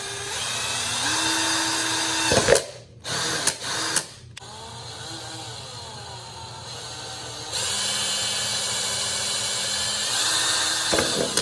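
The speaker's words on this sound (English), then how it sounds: "And now we're gonna drill a little bit." Power drill boring holes for light brackets on a 2006 Yamaha YZ125 dirt bike, a steady close whine with brief bursts and pauses mid-way, then a sustained grinding run.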